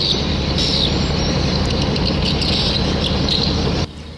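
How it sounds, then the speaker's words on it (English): Dense, high chirping swiftlet calls blast continuously and loudly from loudspeakers in a town, like a recording on a loop, then cut off abruptly near the end. "Notice the loudspeakers. They blast bird sounds all day."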